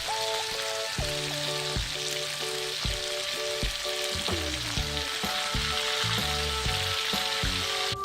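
Salted fish frying in a pan of hot oil after being flipped, cooked alongside cassava leaves; a steady, dense sizzle and crackle runs continuously and close with no voices.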